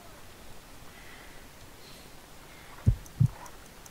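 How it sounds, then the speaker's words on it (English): Two soft, low thumps of a heartbeat from the video game Sherlock Holmes: Crimes and Punishments, arriving close together near the end over a faint hiss, after a stretch of quiet. "I need to concentrate and count the heartbeats."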